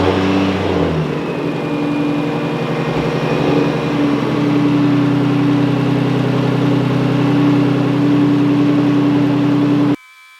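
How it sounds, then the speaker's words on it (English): A Nissan 350Z fitted with a 2JZ engine idles steadily after a front main seal and power steering pump replacement. There is a brief rev at the start, then a loud, even idle hum, cutting off near the end. "So let's fire her up and just make sure nothing leaks. I'm gonna let it idle for a little while"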